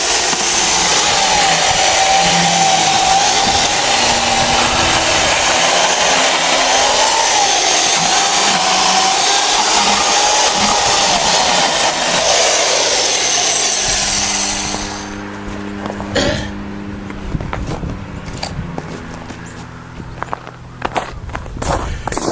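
A 1970s Sears Powersharp chainsaw cuts through wood, its engine roaring loud and steady for about fifteen seconds, then dropping to a rougher, uneven idle with sputtering bursts.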